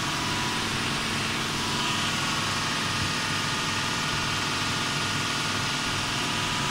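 Motor of a Murat TT 405 automatic programmable two-head saw running steadily, a continuous dense mechanical hum with broadband noise, fairly loud and close, with no speech.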